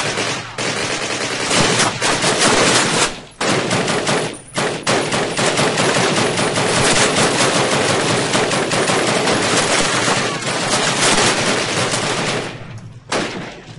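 Long, loud bursts of rapid machine gun fire from a Call of Duty video game rattle almost continuously, broken by a few brief pauses between volleys.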